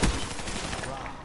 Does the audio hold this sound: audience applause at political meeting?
no